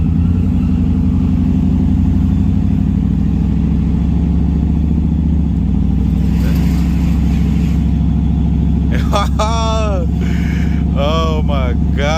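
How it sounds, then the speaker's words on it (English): A pickup truck's engine drones steadily from inside the cab while driving, a loud continuous low hum, with voices coming in over it near the end. "it feels so good to finally drive this fucking truck again"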